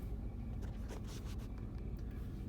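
A Bentley Turbo RT with a 6.75 V8 is shifted into drive and pulls away. A quiet, low engine rumble is heard from inside the cabin, with faint light clicks and scrapes over it.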